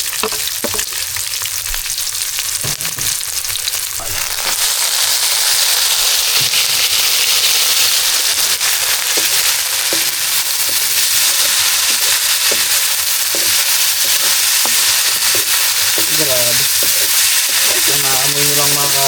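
Chili hits a hot pan with onion and ginger, a loud continuous close sizzle and crackle with stirring scrapes that carries on alone throughout.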